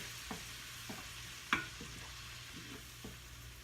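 Two to three tablespoons of garlic frying in a pan for collard greens, a faint, steady sizzle over a low background hum, with a few soft stirring taps and one sharper clink near the middle.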